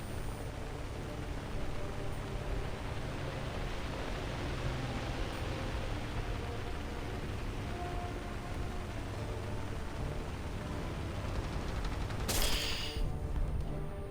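Sustained dense gunfire in a flight combat game as a bomber is shot through its bomb bay, a continuous noisy rattle with a brief sharp crack near the end.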